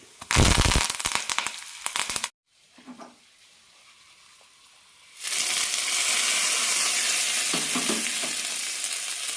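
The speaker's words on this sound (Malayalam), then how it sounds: "ഒരു ടീസ്പൂൺ കടുകിട്ട് കൊടുക്കാം ഇതിലേക്ക് ഒരു കാൽ ടീസ്പൂൺ ഉഴുന്നാണ് ഇടുന്നത് കൂടെ തന്നെ കറിവേപ്പിലയും ഇടാം" Mustard seeds, urad dal and curry leaves hit hot oil with a loud burst of crackling and popping, a brief lull follows, then a steady hissing sizzle settles in close by.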